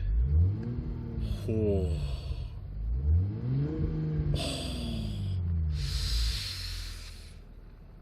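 A 2022 Toyota GR Supra 3.0-litre six with manual gearbox is blipped several times from near idle, each rev rising and falling, with hissy bursts between, close and moderately loud, and a brief exclamation from a man.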